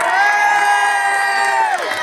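A crowd warming up before a Bollywood Masala show cheers and shouts together in one loud, sustained collective yell of many voices that holds steady for about two seconds, then drops off.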